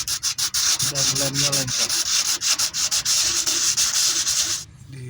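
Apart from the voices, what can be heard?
sanding a surface smooth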